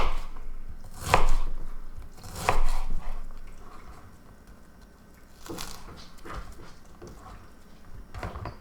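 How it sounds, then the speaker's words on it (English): Onion being diced with a knife on a cutting board: a few heavy, widely spaced chopping thuds with rapid knife strokes between them, close and loud, no voices. "Perfectly diced in just a matter of seconds."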